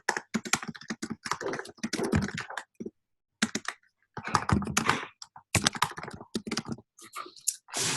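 Clattering keystrokes on a computer keyboard come in quick bursts with short pauses, close and fairly loud, as someone types text into marketing software.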